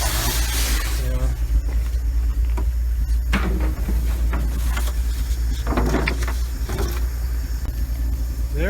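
A 1968 Ford F100 pickup, revived after twenty years sitting in the woods, idles with a steady low engine rumble while metallic whirs and clunks sound close by over it.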